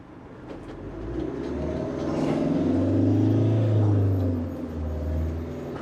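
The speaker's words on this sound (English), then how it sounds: "We're out driving in Ruby." A 2007 Rapido A-Class motorhome on the move, its engine giving a steady low drone with a rise in road and engine noise midway, heard from inside the cab with no talk.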